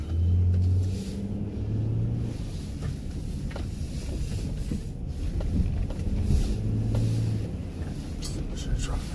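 A 2008 Honda Odyssey minivan rolls along the road, its steady low engine rumble and road noise running continuously at close range, with occasional light wind buffeting and brief hums of talk inside the cabin.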